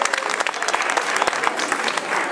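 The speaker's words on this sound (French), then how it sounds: "Ça mérite des applaudissements." Dense, steady applause from an indoor crowd at a 2008 sports awards night in Berre-l'Étang, honouring a Bouches-du-Rhône champion; many hands clapping continuously at fairly close range.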